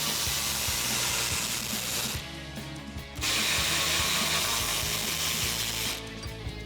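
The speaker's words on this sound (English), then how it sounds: "So we've got a 15mm socket on our ratchet." A ratchet fitted with a 15mm socket works the sway bar bolts on a 2011-2019 rear-wheel-drive Dodge Charger, giving a steady run of close, loud clicking that pauses for about a second midway before carrying on.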